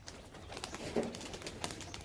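Pigeons coo softly in a loft, one short throaty call standing out amid faint background rustle and low hum.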